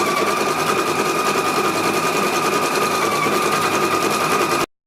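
A Pfaff embroidery sewing machine stitches a tea light design with a steady, fast mechanical whirring hum that runs unbroken, then cuts off abruptly at the end.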